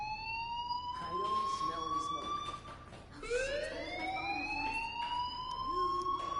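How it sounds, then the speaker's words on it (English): A wailing electronic alarm from the video game Life is Strange, rising and sweeping in repeated tones, loud and continuous through the clip, with a short dip near the middle before it swells again. "Hey, do you hear that fire alarm? That means you should be outside."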